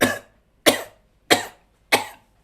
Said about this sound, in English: assuming that you need to do another cough